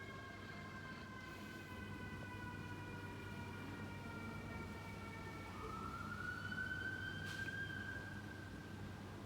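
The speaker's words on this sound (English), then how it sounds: "There's the sirens." Faint, distant emergency sirens wail, their pitch sliding up and down over a low background rumble.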